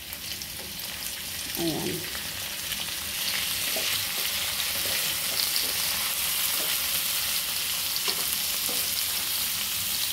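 Chicken liver for adobo frying in a pan, a steady, close hiss of sizzling oil that runs the whole time, with a brief spoken word near the start.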